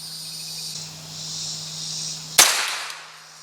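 A single sharp crack from a Winchester Wildcat SR .22LR rifle fired outdoors at bench rest targets 50 yards away, standing out against a steady chirping of crickets with a short fading tail.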